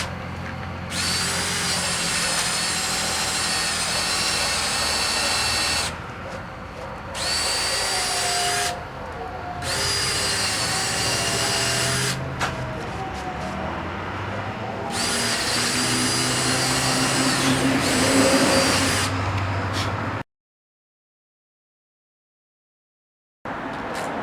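A power drill bores a series of holes in a garage door, whining loudly in long sustained bursts separated by short pauses, then cutting out to silence near the end.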